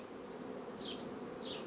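Honeybees buzz over an open hive frame full of brood, a soft steady drone close by and alone, with a couple of brief higher whines as single bees pass near.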